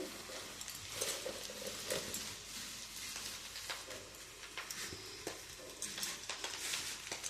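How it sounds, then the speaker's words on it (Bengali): Fried rice being mixed in a pan: a soft, continuous sizzle with scraping and tossing strokes at an irregular pace, close but fairly quiet, with no voices. "আমি এবার খুব ভালো করে এটা আমি মিশিয়ে নেব"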